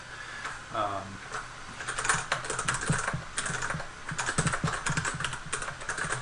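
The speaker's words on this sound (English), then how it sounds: "Just going to type in a quick message here." Fast typing on a computer keyboard while writing a short message in office routing software, a close, dense run of clicking keystrokes with brief pauses between bursts.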